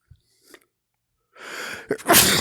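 A single sneeze comes close to the mic: a short intake of breath, then a loud, sharp burst of air, after a few faint, quiet sounds.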